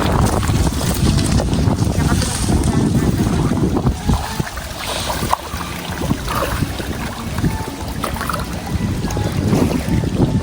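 Strong wind roars continuously against the microphone, a dense rushing noise with gusts, with faint voices underneath.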